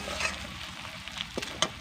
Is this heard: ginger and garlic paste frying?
yes